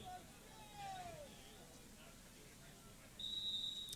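A referee's whistle at a high school playoff football game sounds a single sharp tone near the end, over faint crowd noise and an earlier sliding tone.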